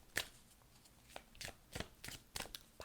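Oracle cards are shuffled by hand in short, soft bursts of riffling and slapping, faint and close, at uneven intervals with quiet gaps between them.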